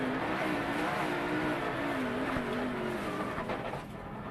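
A race car at Watkins Glen accelerates away after contact in the inner loop. Its engine gives a loud, continuous, rising roar, close and raw against the hiss of the track, and the pitch climbs as it pulls away.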